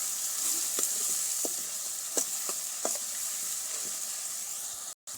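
Tomatoes and dry spices fry in a pan with a steady, close sizzle while a spoon scrapes and stirs in a few distinct strokes; the hiss holds constant before cutting off briefly at the end.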